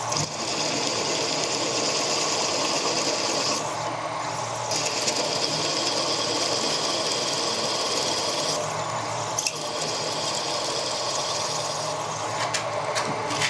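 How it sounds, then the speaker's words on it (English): A power drill fitted with an HSS cobalt bit bores steadily through material, a continuous loud whirring drone with a couple of brief dips in pitch and load, close up and without talk. "It's taking very little effort to push that drill through there."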